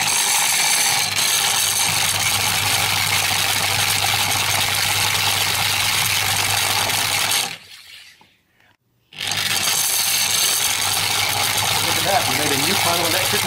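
An aluminium disc fitted with magnets spins above a powered bifilar wire coil in a Lenz levitation setup. It gives a loud, steady mechanical whir with a faint ratcheting edge, cuts out briefly partway through, then resumes.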